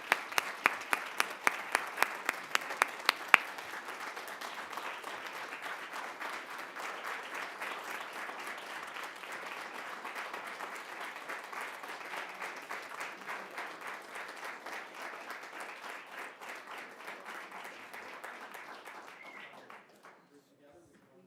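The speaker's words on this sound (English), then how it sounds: "he deserves a round of applause" A council meeting audience breaks into sustained applause for an honored community member, a dense wash of many hands clapping at steady loudness for about twenty seconds before quickly dying away.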